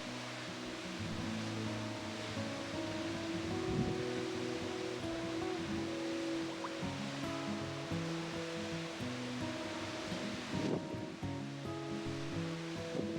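Steady roar of the Kumbhe waterfall in hilly monsoon country, a continuous broadband rush of falling water heard from a distance, with a low tonal hum running beneath it and no voices.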